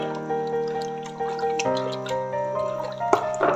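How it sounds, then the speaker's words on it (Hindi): About two cups of water are poured into a pot for Punjabi kadhi pakoda, a close, steady stream whose ringing, pitch-shifting tone rises as the vessel fills, ending with a few splashes. "और हम इसके अंदर पानी शामिल करेंगे।"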